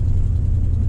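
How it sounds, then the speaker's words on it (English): A 1973 Dodge Charger 340 muscle car drives along, its engine producing a steady low rumble heard from inside the cabin for a brief moment. "Driving the Charger 340."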